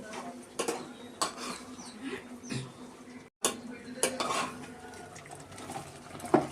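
Dry masala is stirred into chicken in a pan. A spoon scrapes and clinks against the metal in irregular strokes, with a soft sizzle beneath and one brief break.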